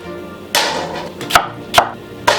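A red kitchen knife chopping onions into quarters on a cutting board, four sharp separate knocks spread over a couple of seconds with soft slicing sounds between, close by and with no talking.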